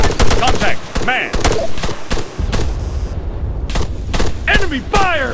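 Gunfire in the military shooter Arma 3 cracks out in sharp repeated shots and short bursts, loud and close. Radio-style voices call out over the shooting.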